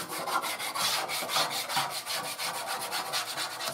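A hot scraper scrubs baked-on food off a baking sheet in steady, rhythmic back-and-forth rasping strokes, close and fairly quiet, with no talking.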